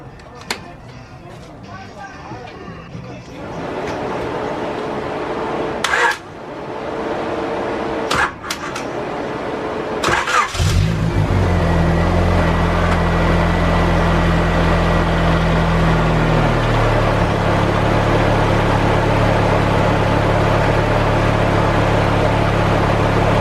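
A rescued station wagon fitted with a cheap eBay turbo kit cranks and fires up for its first start, then settles into a steady low idle; a few clunks and quiet clicks come before the engine catches.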